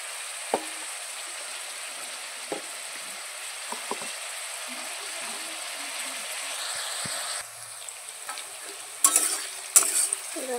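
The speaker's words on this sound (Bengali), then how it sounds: "দেখো আমার এখানে কিন্তু ভাজাটা প্রায় হয়ে এসছে, লাল লাল হয়ে গেছে।" Onions frying in mustard oil for a meat curry, stirred with a utensil: a steady background sizzle with scattered scraping clicks, a few louder clatters near the end.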